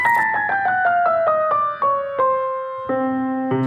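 Single notes struck one after another on an out-of-tune Steinway grand piano, a clear descending run of about a dozen close, ringing tones with slightly wavering pitch, then a lower held note.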